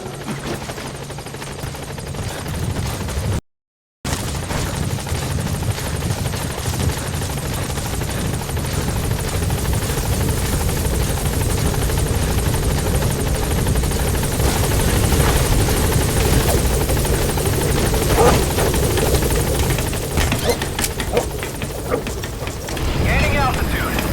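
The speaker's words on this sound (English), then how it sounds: "Support helicopter has arrived." Support helicopter arriving in Metal Gear Solid V, a loud, steady rotor thrum and turbine roar that fills the whole stretch, with brief game voice lines over it.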